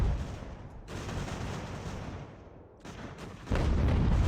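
Naval cannon fire in the video game Ultimate General: American Revolution, a dense rumbling roll of overlapping booms that thins out and then swells into heavier close volleys near the end.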